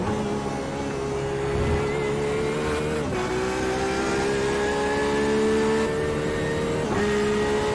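A race car engine at the Daytona road course drones at high revs, its pitch rising through the gears with brief dips at each shift, steady and close.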